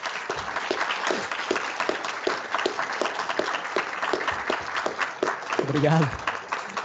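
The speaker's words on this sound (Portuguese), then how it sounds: "É sempre bom uma salva de palmas nessa hora." Audience applause at a book launch about a lynching in Chapecó: dense, steady clapping from a sizable crowd, with a voice briefly speaking over it near the end.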